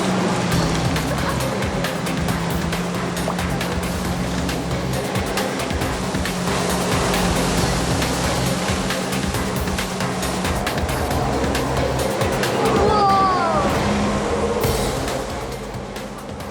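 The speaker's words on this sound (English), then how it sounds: "Thrust by a jet of water, the flyboard could almost be mistaken for a dolphin" A flyboard rider is lifted over the sea off New Zealand by a jet of water, giving a steady, loud, hissing roar of spraying water mixed with a droning motor. The sound runs without a break before easing slightly at the end.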